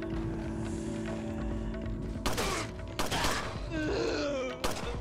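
Sharp gunshot blasts from the video game Resident Evil 4, three loud broadband bursts roughly a second apart over a dense background of game music and ambience, with a voice talking.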